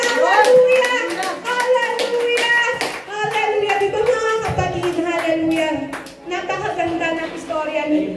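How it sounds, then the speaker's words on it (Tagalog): A church congregation claps for the Lord in a sharp, regular beat. The claps ring out over singing or chanting voices, fairly loud and close. "palakpak sa Panginoon"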